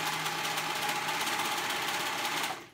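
A sewing machine stitches at a steady, fast, buzzing whir, close and continuous, then winds down and stops near the end; the spool has caught and nearly ripped the thread.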